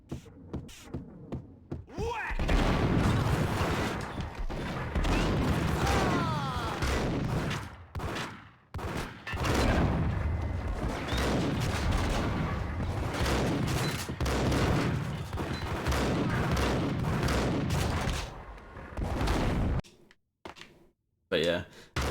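Dual Beretta pistols fire in Max Payne, a dense stream of rapid gunshots mixed with other game action that carries on for most of the stretch, with someone talking over it.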